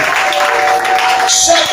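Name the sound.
congregation cheering and applauding loudly for the Lord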